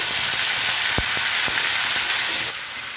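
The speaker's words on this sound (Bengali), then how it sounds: "ভালো করে আবার নেড়ে নিব তরকারিটাকে" Shrimp and mixed vegetable curry with ginger and mustard paste sizzles steadily in a pan while being stirred, with a couple of sharp spoon knocks against the pan over the constant frying hiss.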